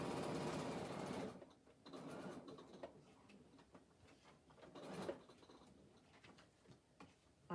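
A sewing machine stitching quilt binding, a fast steady run of stitches at first, then quieter intermittent bursts with soft handling noises, faint overall.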